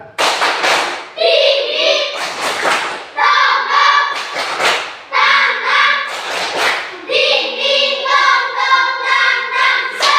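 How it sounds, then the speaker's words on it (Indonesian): Schoolchildren in a fourth-grade classroom do a rhythmic spirit clap, loud bursts of group clapping alternating with stretches of chanting in clear repeated cycles. "Oke, tepuk semangat."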